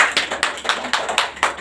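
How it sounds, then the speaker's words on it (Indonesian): An Indonesian classroom of students claps hands in a patterned rhythm, about seven sharp, close claps spaced roughly a quarter second apart with small pauses between groups. "beri tepuk tangan"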